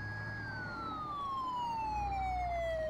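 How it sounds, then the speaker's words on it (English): A fire truck siren in Farming Simulator 19 wails in a single long tone that slides steadily downward, loud and near, over a low engine rumble. "Lambo, there could be another control for the siren. I do like how it goes on, like, automatically"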